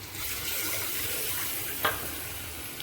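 Tomatoes go into a frying pan for prawn biryani and set off a steady, even sizzle with faint stirring. One brief scrape stands out near the end, and there is no talk.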